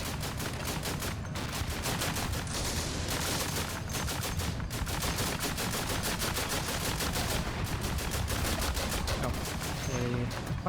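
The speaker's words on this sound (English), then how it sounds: "Okay, quite a lot of mortars." Mortar rounds in the Combat Mission: Afrika Korps game fire and explode in a dense, continuous barrage, crackling bursts overlapping at steady loudness throughout.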